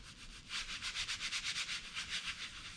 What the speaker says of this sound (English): Got my Japanese Baron, and I'm gonna rub the back.